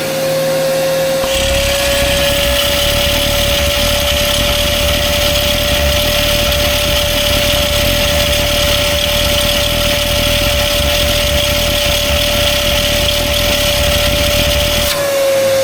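A shop vac runs continuously and loudly beside a Mack semi truck, a steady whining drone with a constant tone that starts abruptly near the beginning and cuts off at the end.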